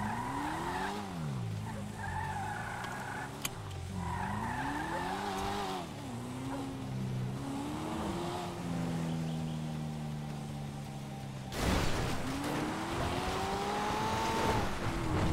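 Fast car in a video game skidding repeatedly, engine whine rising and falling in sweeping bursts with tire squeals, then a sharper screech near the end; no one speaks over it.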